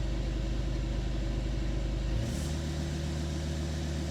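A V10 TDI diesel idles with a deep, steady low rumble throughout, its tone shifting to a lower, rougher note about halfway through. No one speaks.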